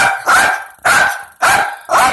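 A small dog barks sharply four times in an even rhythm, each bark loud and close with a yappy, high-pitched edge; no one speaks.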